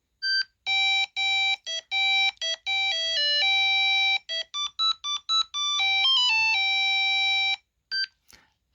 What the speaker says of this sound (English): That's the sound it makes when you've completed all 4 levels.